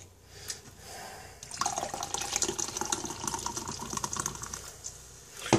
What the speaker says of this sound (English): I poured it with some Schweppes Club soda.